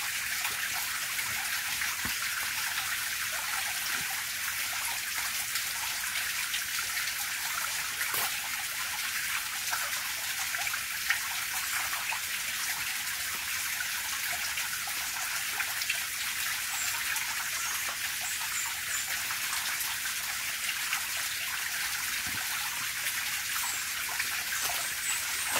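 Water falling and dripping inside a tunnel, a constant hissing trickle with scattered faint drips, steady and unbroken throughout with no talking.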